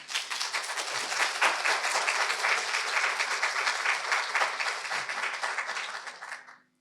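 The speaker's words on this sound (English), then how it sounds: "give yourself a hearty round of applause" Graduates and audience at a university commencement ceremony give a dense, sustained round of applause, loud and even throughout before fading out near the end.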